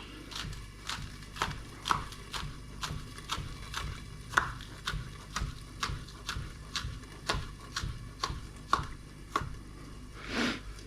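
Green onion chopped on a cutting board with a knife, a steady run of crisp, evenly spaced knocks about twice a second, close and clear with no talk.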